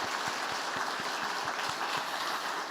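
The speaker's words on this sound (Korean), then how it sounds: "우리 격려의 박수" A church congregation applauds its Sunday school teachers during a worship service, a steady, fairly faint wash of clapping filling the whole stretch without any talk.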